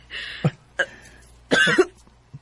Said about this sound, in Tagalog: Taod-taod naman na imong ubo